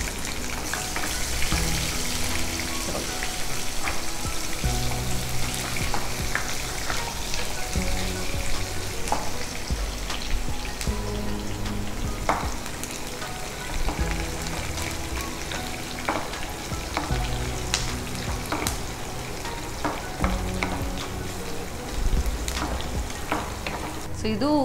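Onions fry in a pan until brown, giving a steady dense sizzle that runs throughout with occasional stirring scrapes and clinks, close and moderately loud, with no talking.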